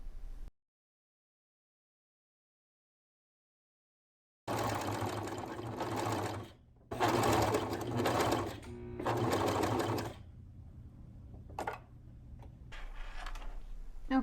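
A home sewing machine stitches clear elastic into a True Bias Nikko top, running in several bursts of steady rapid mechanical whirring with brief pauses between, close and fairly loud after a silent start.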